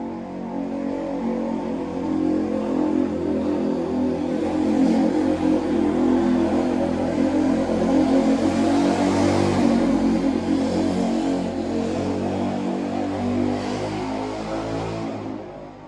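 A small engine, a lawnmower or moped, drones past in the distance, a steady buzzing hum that swells in the middle and slowly fades, with no talk.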